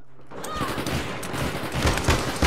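Gunfire in the online shooter APB Reloaded, a burst of rapid shots and crackling fire that rises and keeps going over a couple of seconds, fairly loud within the game's mix.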